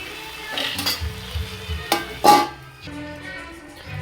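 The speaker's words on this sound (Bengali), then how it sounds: "এখন থেকে ভালো করে কষানো হবে।" Mutton is stir-fried and braised in a pan with spices, making scattered spoon scrapes and clinks against the metal under a soft sizzle, with a couple of sharper strikes, close and fairly quiet.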